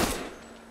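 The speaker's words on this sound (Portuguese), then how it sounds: "Dei dois tiros no sem vergonha aí" A gunshot fired at a turkey during a hunt, about 12 metres away: one loud close blast at the outset that rings and fades into a lingering outdoor decay.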